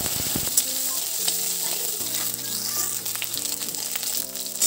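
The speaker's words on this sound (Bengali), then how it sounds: "ওই আলু দুটো ভাজি নিই।" Two cut potatoes frying in hot oil in a pan, a dense, steady sizzle with crackling pops, close and continuous with no voices.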